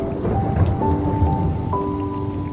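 Heavy rain pours down at night, a loud, continuous hiss and patter with a low rumble of thunder underneath and a few sustained tonal hums running through the downpour.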